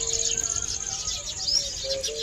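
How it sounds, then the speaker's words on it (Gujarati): Sparrows chirp and twitter continuously in the open air, bright overlapping tweets over a soft, steady outdoor background. "કેવો અવાજ આવે ચકલીઓનો જો તમને અવાજ આવતો હશે"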